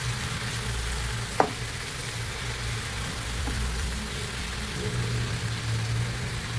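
Chicken frying and being stirred in a pan with spinach for a creamy chicken dish gives a soft, steady sizzle throughout, with one sharp utensil click early on.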